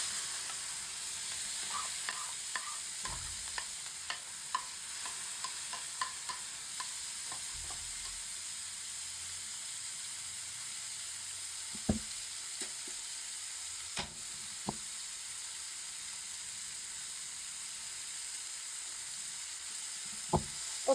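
Bread pizza fries in a pan over low heat, a steady close sizzle with occasional soft stirring clicks and scrapes, no voices.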